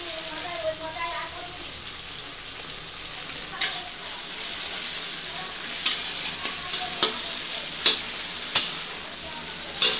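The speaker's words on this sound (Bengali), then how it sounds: "এখন এই মাছের মাথাটাকে ভালো করে ফ্রাই হবে" Fish head frying with chopped garlic in a pan over a raised gas flame, a steady sizzle broken by sharp stirring clacks and scrapes, with background noise throughout.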